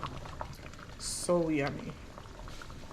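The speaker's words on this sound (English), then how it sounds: "here I am with a pot of boiling water, ready to boil my seafood" A pot of water boiling for a seafood boil gives a soft, steady bubbling hiss, with a brief close voice speaking over it midway.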